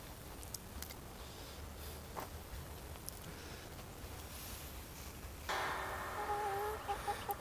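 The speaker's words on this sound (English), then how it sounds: "Bring you guys down and show you the chickens" Chickens cluck softly and faintly on a farm on a quiet Sunday morning, scattered calls over low background noise, with louder, closer clucking toward the end.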